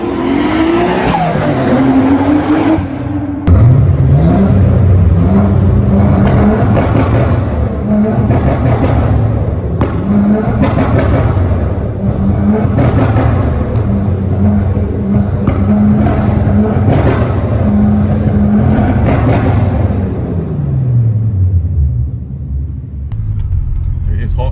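Turbocharged Nissan Skyline GTT with a manual gearbox driving on the road, its engine droning and rising through the gears with dips at shifts, loud and close from inside the cabin, with people talking over it.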